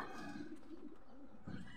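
Racing pigeon cooing: a few soft, low, rolling coos close by, faint against a light background hum.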